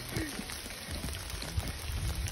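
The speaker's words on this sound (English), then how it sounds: "It's hailing on us!" Hail falling during a camping trip in the Rocky Mountains, a steady patter of small impacts with a few sharper pops, close and fairly faint, with no talking.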